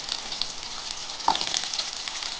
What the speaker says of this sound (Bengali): এই মূলোটার মধ্যে একটু সামান্য হলুদ আর সামান্য একটু নুন দিয়েই